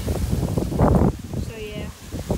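Wind buffets a microphone outdoors in a public place with a low, blustery rumble that rises and falls, while people talk close by.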